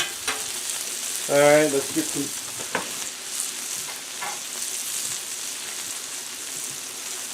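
Onions nearly done on a Blackstone griddle, a soft continuous sizzle with a few clinks from a spatula; someone speaks briefly near the start.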